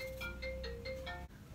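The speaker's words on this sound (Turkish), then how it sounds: "Telefonu çaldı." A mobile phone ringtone plays in a home kitchen during breakfast cooking, with a steady tone and a repeating melodic pattern of short chimes about every fifth of a second, clear and fairly close.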